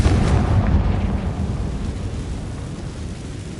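A Confringo fire spell explodes in Hogwarts Legacy, a heavy low boom hitting at once and then rumbling away into a fading roar.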